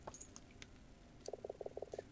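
A frog character in the video game Ghost of a Tale croaks in a quick rhythmic series of about eight short pulses over faint ambient game noise, preceded by a few scattered chirps.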